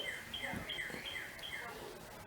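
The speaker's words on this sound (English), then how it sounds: "the birds are chirping outside" Birds chirp outside on a spring day in Virginia, giving a repeated series of thin, high, sweeping calls at a steady pace. They sound faint and distant, heard through the quiet of a room.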